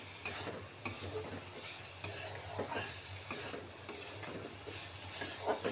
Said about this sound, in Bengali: এরপর ভালো করে আরও একটু মশলাটা কষে নেবো।